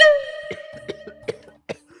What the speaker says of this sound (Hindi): खांसी और हो गई, दवाई लाऊंगा।